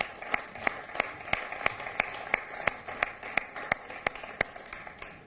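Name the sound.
audience applause at poetry event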